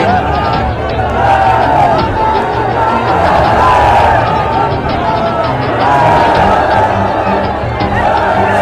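A large, dense crowd fills the air with continuous chanted slogans of 'Bharat Mata ki Jai' and 'Jai Hind' outside a fallen soldier's ancestral village home, loud and steady with rising and falling surges of massed voices.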